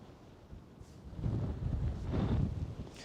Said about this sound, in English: the wind howling around my ears here, the smell of the peat, the sound of the lapping of the waves